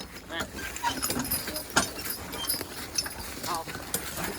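Horse or mule hooves clopping on the ground while skidding logs in the woods, irregular steps close by under a voice giving commands.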